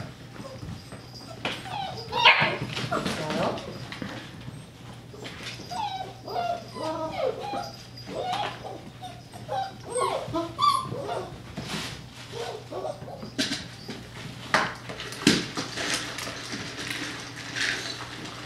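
A litter of puppies whimpers, yips and gives small barks at feeding time, a busy overlapping chorus close by at moderate volume, with a person talking intermittently underneath.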